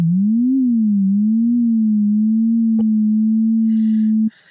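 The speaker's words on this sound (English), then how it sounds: "over time you can hear that LFO unit sort of peter out and just become a flat note" Logic ES2 synthesizer tone whose LFO wobble slowly dies away into a steady, flat sustained note, loud and alone, with a brief click midway and a short noisy burst just before it cuts off.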